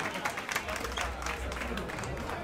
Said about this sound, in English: Give my girlfriend a round of applause.